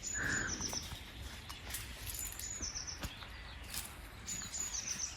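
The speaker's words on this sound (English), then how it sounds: "Can you hear the birds?" Birds sing outside a house in Italy, with short chirps and a brief trill over steady outdoor background hiss, moderately distant and fairly faint.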